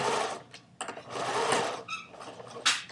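A sewing machine stitching an understitch on a trouser fly front, running in short close bursts of rapid whirring stitches with brief stops and a light click between runs.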